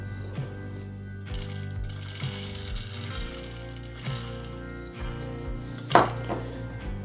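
A Breville Barista Express grinder runs on coffee beans, its motor whirring in a steady hum with shifting pitch and gritty crunching, and a brief clink near the end.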